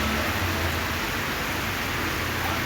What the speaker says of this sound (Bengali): প্রায় 20-25 মিনিট হয়েছে বৃষ্টি।